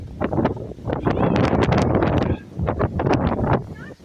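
Strong gusty wind during a dust storm in Idaho farmland, loud buffeting bursts that rise and fall close to the microphone, roaring in irregular waves.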